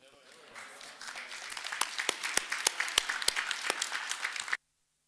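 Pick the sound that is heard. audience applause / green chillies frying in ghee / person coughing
audience applause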